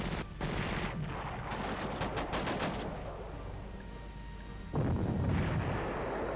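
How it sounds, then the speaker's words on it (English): Sustained battle gunfire in a WWII combat game set in Berlin 1945, a loud continuous roar of automatic and heavy fire with bursts rising and swelling near the end, no voices over it. "That's an SMG."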